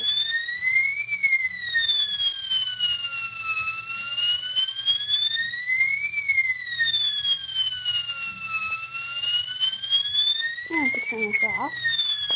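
A fire alarm wails in slow rising and falling electronic sweeps during a system test, repeating steadily, with a brief burst of voices and clatter near the end.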